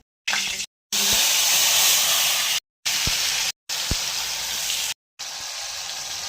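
Tempering spices crackle and sizzle in hot oil in a kadai, a bright steady hiss broken into short bursts by several abrupt cuts, with a few sharp pops; no talk.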